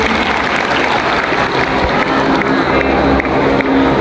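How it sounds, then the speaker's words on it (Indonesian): Students at a school assembly applaud together in a steady, dense wash of clapping that fills the whole stretch, with crowd murmur mixed in and no clear speech over it. "Tepuk tangan semuanya."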